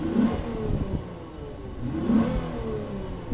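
A 2022 Lexus IS 350 F Sport AWD with a naturally aspirated 3.5-liter V6 revs twice, each blip rising and falling over a steady idle, close and fairly loud with no talk.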